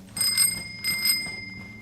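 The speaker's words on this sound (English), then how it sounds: "I thought it only polite to ring the doorbell as I came approaching the gate." A small gate bell in the DayZ video game rings in two quick bursts, each a bright, high metallic ring of a few strikes, heard close and clear over quiet surroundings with no voices.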